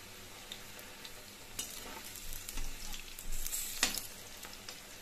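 Pakora batter dropped into hot oil in a kadhai fries with a faint, steady sizzle that swells with brief bursts of crackle partway through, heard close with no talking.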